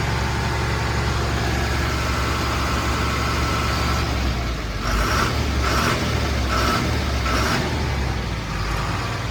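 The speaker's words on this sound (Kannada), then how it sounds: "ಹಾ ಗಾಡಿ ಅಂತೂ ಸ್ಟಾರ್ಟ್ ಆಯಿತು ವ್ಯಾಕಮ್ನ ಏರ್ತಾ ಇದೆ" A truck engine that had sat parked for a long time idles after being started, a loud steady low rumble close by that stays continuous throughout, with a few faint rhythmic pulses toward the end.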